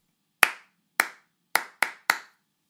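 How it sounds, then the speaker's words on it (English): Five sharp hand claps in a quick demonstration rhythm: three evenly spaced, then two closer together near the end, each crisp and close with a short decay, no voices. "if I clap a rhythm, you have to copy me, exactly"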